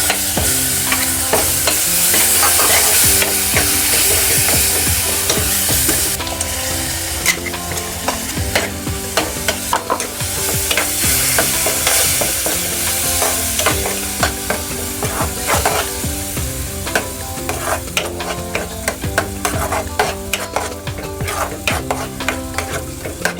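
Tomato puree sizzles steadily in a pan with cumin powder while a spoon stirs it, giving busy frying crackle and repeated scraping and knocking strokes close by, with no talking.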